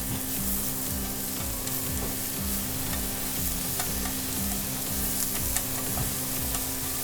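Cooking chopsticks stir ketchup-based Napolitan spaghetti with mushrooms in a frying pan over medium heat, giving a steady close sizzle and frying hiss with soft scraping and clacking throughout.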